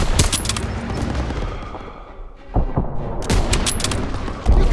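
Machine gun fire in a World War II Call of Duty battle: loud, rapid bursts of shots with a brief quieter lull before the firing resumes, close and dense with distant booms.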